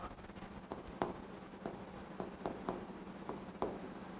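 Pen writing notes about bar graphs on paper or a board, with a faint steady scratching broken by several sharp tapping strokes spread irregularly across the stretch, close and quiet, with no talk.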